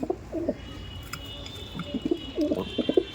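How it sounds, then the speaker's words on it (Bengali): Andhra pigeons in a loft coo close by in soft, repeated throaty bursts, with two clear phrases at the start and end and quieter murmurs between. "অন্ধ্র পায়রা দেখুন বন্ধুরা"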